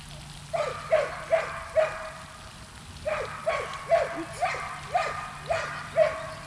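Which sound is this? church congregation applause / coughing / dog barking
dog barking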